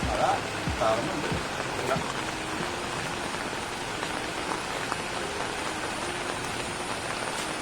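Rain patters steadily on surfaces around an outdoor wood fire where fish is being fried in a pan, a dense constant hiss with brief voices early on.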